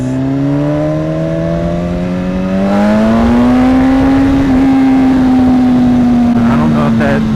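Engine of a 2016 BMW S1000RR sport motorcycle revving, a loud, steady tone climbing in pitch and then holding high, close and sustained throughout.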